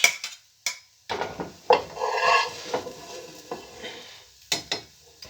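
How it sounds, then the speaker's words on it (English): Food scooped up with a spoon and tipped into a pot of beef stew made from canned ingredients, heard as scraping and clinking against metal with a soft wet stir, close and intermittent, no voices. "Scoop it all up here and just simply add it to the beef stew."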